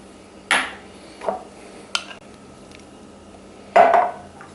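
A spoon clinks against a measuring cup while scooping mayonnaise into a mid-sized bowl, four short scraping taps spaced a second or so apart in a quiet kitchen.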